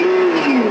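A toy RC car's built-in sound module plays a synthetic engine rev in a Blue GTR R35 widebody model, a steady mid-pitched drone with a rising sweep, loud and close, with no voices over it.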